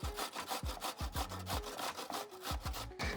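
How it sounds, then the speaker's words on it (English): Peeled cucumber being rubbed back and forth on a grater, a close, steady rasping stroke repeating roughly every half second, with no talking. "we need to grate some cucumber"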